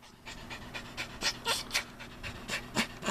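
A dog pants rapidly and rhythmically close by, mixing in short breathy whines and vocal bursts, with no talking.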